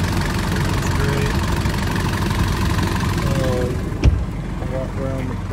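A 1995 Nissan Atlas RV engine idling steadily with a low, even rumble throughout, with a brief knock or thump near the end; a faint voice sits under it.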